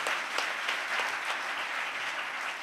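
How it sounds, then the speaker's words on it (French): Sustained audience applause with scattered cheers fills a church service led by a prophet, a steady dense crackle of clapping at even loudness throughout, with no speech over it. "Que tes acclamations montent un peu."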